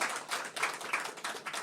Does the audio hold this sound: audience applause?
yes